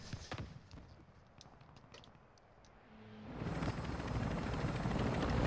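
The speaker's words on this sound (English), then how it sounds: "Oh, I'm in the helicopter." A helicopter in a video game swells in from quiet into a loud, steady rotor and engine roar that keeps building toward the end.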